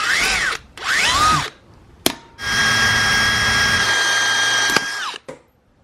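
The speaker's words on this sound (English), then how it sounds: "I'm gonna drill out this hole" Power drill boring out a hole in a dirt bike chain guard part, several loud sustained bursts of drilling with short pauses between, the last run long and steady before stopping.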